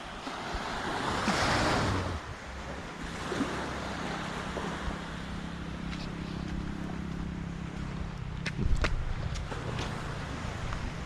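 Strong sea waves roll and crash at Mae Ramphueng beach in Thailand, with a continuous surf roar, a larger wash early on, and wind buffeting the microphone.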